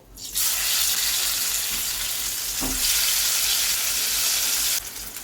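Papaya pieces fry in a pan with a loud, steady sizzle that starts abruptly and cuts off near the end, with a faint clink partway through.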